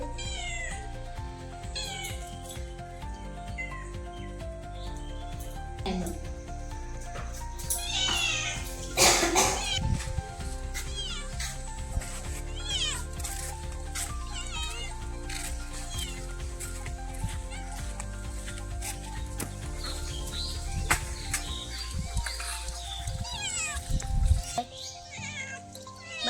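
A cat meows again and again, loud and close, while being given rice mixed with fish bones and curry. A few drawn-out, wailing calls mix with faint background animal sounds.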